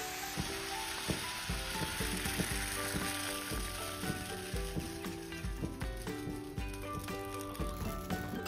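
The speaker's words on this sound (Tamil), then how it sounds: "இப்போ வந்து இந்த ஆப்பத்தை வந்து ஆப்பச்சட்டியில் ஊற்றி வந்தோம்னா வேக வைக்க போகிறோம்" Appam batter poured into a hot appam pan for Kerala appam, cooking with a steady close sizzle and soft crackling bubbles, accompanied by light background music and no speech.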